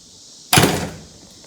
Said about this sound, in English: Let me close this door and you'll get a better idea.